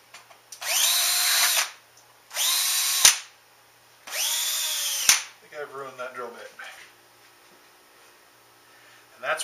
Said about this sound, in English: went to drill out one of the first holes at the top